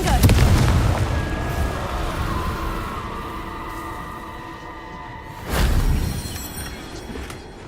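A Confringo blasting curse explodes in Hogwarts Legacy with a sharp, loud boom and ringing tail, followed a few seconds later by a second, smaller blast.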